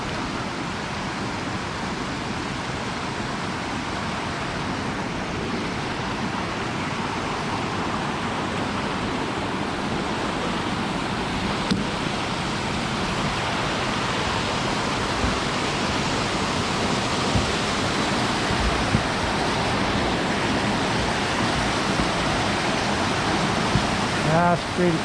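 Continuous broadband rushing of a rain-fed stream at Fall Creek Falls State Park, Tennessee, steady and fairly close, with no pauses for the whole stretch.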